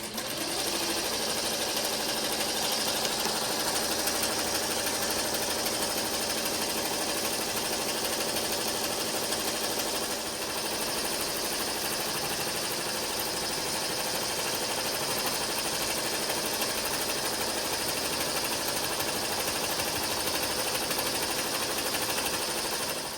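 An embroidery machine runs at high speed, stitching a yarn chenille design onto a sweatshirt, giving a steady, loud, dense mechanical whir with rapid needle rhythm and no pauses throughout.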